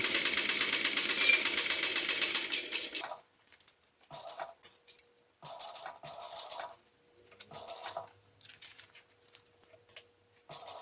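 A sewing machine stitches a tote bag lining seam, humming steadily at close range for about three seconds, then sewing in short separate bursts with quiet pauses and small clicks in between.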